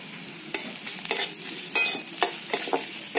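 Onion frying in oil with turmeric in a pan for a spinach and fish-head curry, a steady close sizzle broken by several sharp scraping stirs of the spatula, with no voices.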